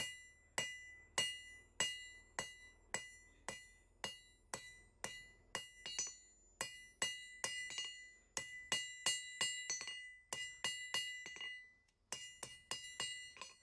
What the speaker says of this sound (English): Sorry, the anvil is very loud.